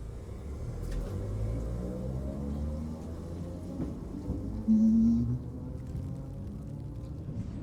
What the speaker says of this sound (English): another tram passed by